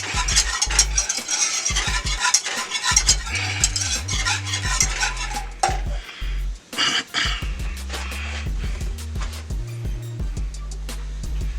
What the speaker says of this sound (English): We're going to mix that in the butter.